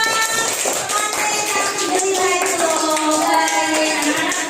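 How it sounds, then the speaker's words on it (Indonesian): In a third-grade classroom, children clap steadily while their voices chant or sing along, the clapping and voices blended at an even level throughout. "Tepuk tangan buat"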